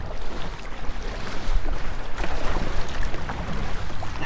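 Kayak paddling on the Gulf after a Mirage Drive is pulled, with close sloshing water, paddle splashes and gusty wind noise over a continuous wash.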